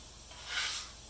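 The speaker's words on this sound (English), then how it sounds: "I'm gonna toss these mushrooms in the hot oil" Mushrooms tossed into hot oil in a home kitchen give a brief hissing sizzle that swells for about half a second and then settles back into a steady low fry.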